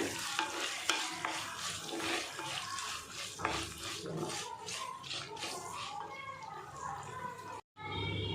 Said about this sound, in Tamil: இதெல்லாம் நல்லா வதக்கி எடுத்துருங்க